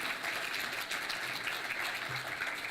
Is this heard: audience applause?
yes